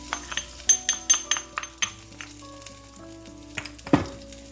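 Curry leaves and a pounded spice mixture sizzling in hot oil for rasam, with close crackling bursts and pops early on, settling into a steady fry with a louder spatter near the end.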